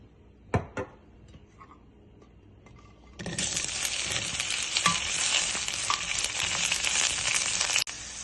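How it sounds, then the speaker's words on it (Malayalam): Okra sautéing in oil in a pan: after a few quiet utensil clinks, a loud sizzle bursts in and crackles steadily for several seconds, close and continuous, with occasional stirring scrapes. "അപ്പം ആദ്യം നമുക്ക് 1 സ്പൂൺ എണ്ണ ഒഴിച്ചിട്ട് വെണ്ടയ്ക്ക ഒന്ന് വഴറ്റിയെടുക്കാം."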